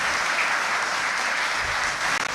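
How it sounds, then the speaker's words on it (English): Dense, steady audience applause at a graduation ceremony honoring top students at Saint Mary's Academy, continuous and fairly loud with no talk over it. "So these were the top students in the various subject areas. Give them a round of applause."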